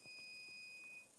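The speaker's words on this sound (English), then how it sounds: "I've got an appliance that I can't switch off and it keeps beeping." Two faint electronic tones from a household appliance sound together in the background, a thin steady beep lasting about a second in a quiet room.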